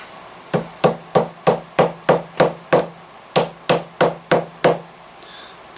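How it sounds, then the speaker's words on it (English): A hammer strikes a glued leather knife sheath again and again, about fourteen sharp, close taps in a steady rhythm that pauses once partway through, with no talk. "hammering that glue kind of sets it. Just helps it to glue tight."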